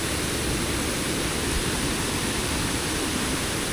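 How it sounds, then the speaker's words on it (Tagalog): Strong river current rushing steadily, a dense broadband roar of water that stays loud and unbroken throughout, with no voices over it. "Ang lakas ng agos."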